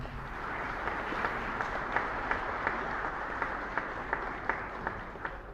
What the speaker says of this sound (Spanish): a todos ellos fuerte aplauso también